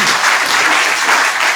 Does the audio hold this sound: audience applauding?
yes